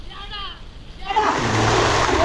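Children jump into a well, and after a quiet start a broad rushing splash of water swells up and keeps churning loudly to the end.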